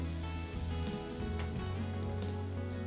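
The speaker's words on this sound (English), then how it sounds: "Now I will show to you the cheese test. Watch this cheese. It is cooking." Cheese frying in a Wonderchef Caesar non-stick pan gives off a soft, steady sizzle with faint crackles, heard close and quiet over a low background hum.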